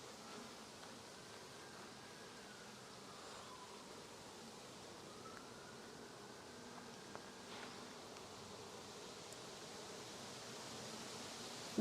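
Honeybees from a colony being moved from a split into a full hive buzz steadily and close by, a dense insect drone with individual bees flying past, with no talking.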